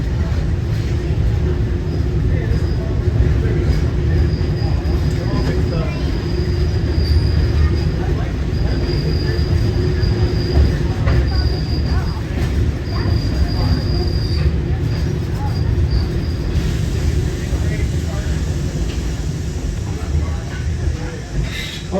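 Sierra Railroad scenic excursion train rolling along the tracks, a steady close rumble of wheels and cars with a faint high squeal, continuous throughout.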